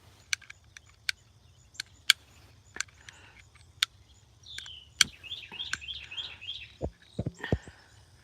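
A small bird chirps outdoors in a short repeated series of faint, high calls. Scattered sharp clicks and ticks come before it, and low thuds follow near the end.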